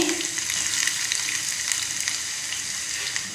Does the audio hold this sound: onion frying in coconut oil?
yes